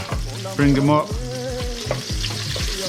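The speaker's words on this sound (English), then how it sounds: "We're giving these onions and this garlic a little head start on the frying." Onions and garlic sizzle and crackle in hot oil while a voice speaks briefly over the frying, with stirring scrapes in the pan.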